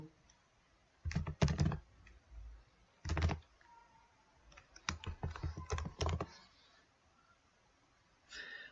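Bursts of computer keyboard typing during data entry on a form, clustered keystrokes in several short runs separated by pauses, close and clear with no talk over them.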